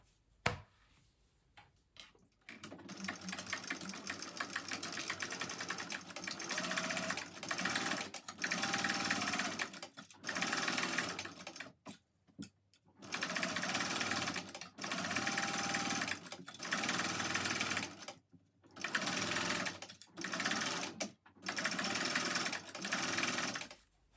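A sewing machine stitches all the way around a Cornish backpack made by Country Cow Designs, running in long steady bursts broken by short stops, close and loud, with no talking.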